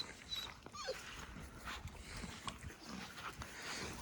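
Dogs whimper and yip faintly outdoors, making scattered soft whines among rustling and ambient noise, with no clear talk during the moment.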